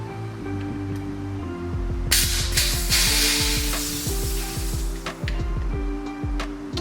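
Oil gurgles and sputters out of a KYB rear shock reservoir from a YZ125 dirt bike, a continuous wet sizzling with a loud spraying rush in the middle, set against a rhythmic mechanical hum close by.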